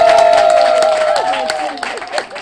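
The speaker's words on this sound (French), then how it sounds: "Est-ce qu'on ne peut pas les applaudir?" An audience claps at a lively anniversary celebration, a short burst of applause and crowd noise mixed with talking voices.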